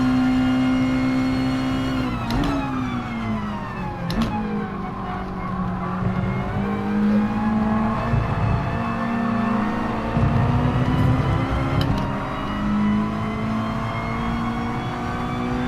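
A race car engine in the GT Sport video game drones continuously at high revs, pitch dipping and climbing through shifts and braking, with brief tire squeals and no pauses.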